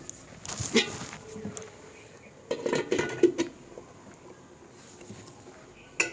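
Metal pot and cutlery clatter as a lid goes onto a pot of cauliflower dal: a few sharp clinks and scrapes in two clusters, close by, with quiet pauses between.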